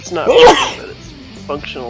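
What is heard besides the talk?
sneeze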